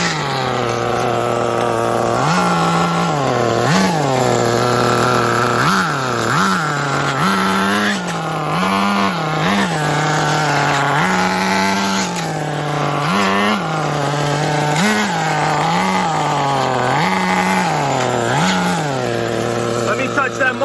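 A Tamiya Terra Crusher nitro RC truck with low compression runs loud and close, its small engine revving up and down in a rapid rising and falling drone over about twenty seconds.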